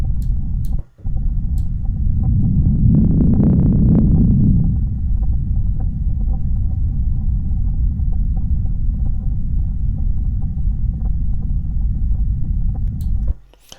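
A filtered, synthesized noise rumble made in the Serum synth, a deep, loud, sustained low roar that swells in the middle and then holds steady before cutting off abruptly.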